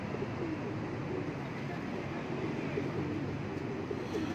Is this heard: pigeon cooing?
yes